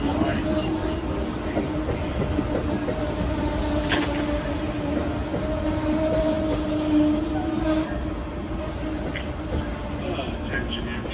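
An Amtrak Vermonter passenger train arriving at a busy station rumbles steadily with a constant low drone and faint metallic squeals, while voices murmur in the background.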